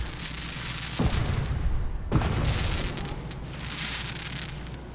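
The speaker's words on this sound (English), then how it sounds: "Are those supposed to be fireworks?" Two deep booming firework blasts in Fallout 4 about a second apart, each with a sharp crack, over a constant rumbling, crackling background.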